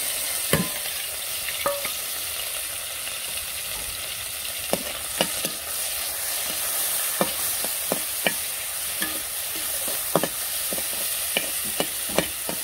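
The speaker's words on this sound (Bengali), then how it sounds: "তো আমার তেলটা প্রায় গরম হয়ে গেছে, মাছগুলা দিয়ে দিই।" Dried fish (shutki) seasoned with turmeric, salt and chilli fries in hot oil, giving a continuous close sizzle broken by scattered sharp clicks and scrapes of stirring.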